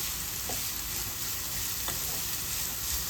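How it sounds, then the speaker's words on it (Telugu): Chopped vegetables frying in hot oil for masala pasta, a steady broadband sizzle throughout with a couple of faint stirring scrapes, fairly close and continuous. "ఒక 2-3 నిమిషాలు ఇలా ఆయిల్లో ఫ్రై చేసేసుకుంటే సరిపోతాయి."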